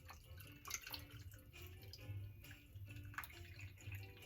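A cranberry apple vodkarita cocktail is poured over ice in a glass, a soft continuous trickle with light drips and clinks, close and quiet.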